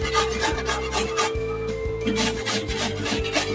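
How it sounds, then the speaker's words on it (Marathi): A peeled potato is grated by hand for a fasting-day rajgira thalipeeth, giving rhythmic rasping strokes, close and steady, several per second. "त्यासाठी मी हा एक बटाटा घेतलेला आहे साल काढून. तो पहिला किसून घ्यायचा."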